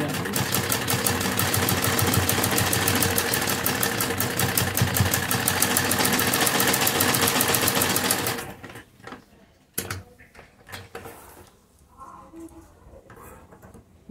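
A sewing machine runs fast and steady, stitching a folded fabric hem for a sleeve. Its close, even rattle lasts about eight seconds, then stops, leaving quieter handling noises and a few faint knocks.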